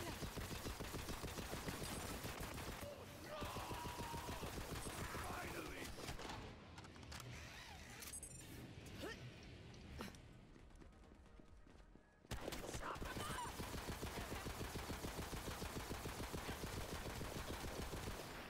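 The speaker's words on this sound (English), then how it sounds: "Yeah, I kind of like this SMG a lot." SMG gunfire in the video game Borderlands 3: rapid, sustained bursts of automatic fire, loud and close, easing off briefly in the middle before a renewed stretch of nonstop shooting, with a voice talking at times underneath.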